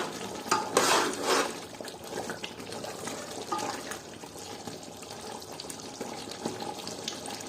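Badami nattu koli chicken biryani with lemon added, stirred in a cooking pot: wet mixing and scraping sounds with soft bubbling, loudest near the start and then settling into steady gentle stirring.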